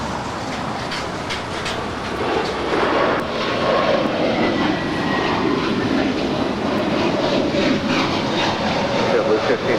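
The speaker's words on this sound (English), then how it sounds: "Now on short final is the Emirates A380." Emirates Airbus A380 jet airliner on short final at LAX, a loud sustained roar of jet engines rumbling steadily nearby, with radio chatter heard faintly in the background.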